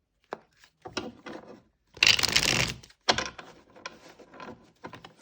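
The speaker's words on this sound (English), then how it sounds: "we'll do one last shuffle" A deck of tarot cards is shuffled in soft, quick riffling bursts, with one longer dense riffle in the middle and brief pauses between the close, quiet shuffles.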